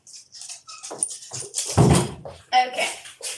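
A pet dog whimpers and yips indoors near a door, giving short, high whines in close succession at fairly close range, mixed with a few other household sounds.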